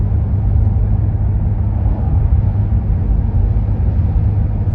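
Interior of a 20-year-old Lexus driving smoothly, a steady low road rumble and engine drone held at an even level throughout, with no talk.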